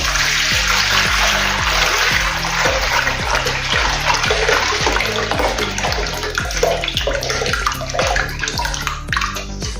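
Water pours steadily and splashes over soaked urad dal being washed by hand, a loud continuous gush with a faint rhythmic knocking underneath, close by and with no talking.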